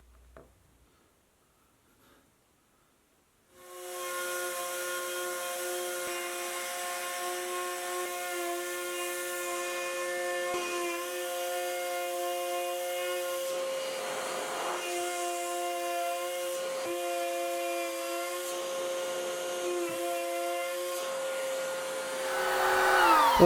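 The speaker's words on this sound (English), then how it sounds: "this time I've decided to use a V-bit in the router for a change" A wood router fitted with a V-bit carving snowflake shapes for wooden Christmas decorations, a loud sustained high whine that starts after a few quiet seconds and runs steadily with slight shifts in pitch as it cuts.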